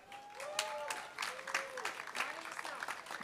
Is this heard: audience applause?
yes